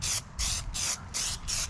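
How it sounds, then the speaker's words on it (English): Four short bursts from an aerosol spray paint can hiss close by, evenly spaced with brief silent gaps between them. "I usually spray off to the side a little bit just to make sure the nozzle is clean"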